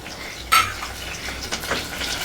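A spatula clinks sharply once against a pan of spice tempering with curry leaves, followed by faint scraping and stirring under a low, quiet background.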